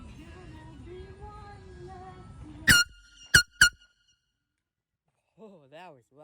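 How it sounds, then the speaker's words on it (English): An air horn sounds outdoors in a neighborhood: one long blast followed by two short sharp honks, loud and close, after quiet talk, with a voice speaking briefly afterward. "I'll go sound it off over there with my air horn."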